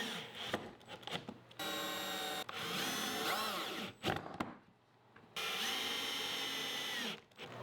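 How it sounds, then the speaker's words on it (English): Power drill pre-drilling screw holes in plywood, several whining bursts of a second or two that rise and sag in pitch as the bit bites, separated by brief pauses, close and fairly loud. "I'm making sure to pre-drill all the holes prior to installing the screws just to make sure that we don't accidentally split any of the plywood"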